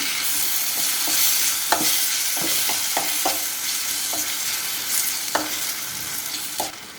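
Ginger garlic paste with chili powder and coriander powder fries in a pan, a continuous loud sizzle broken by occasional sharp spoon taps and stirring scrapes.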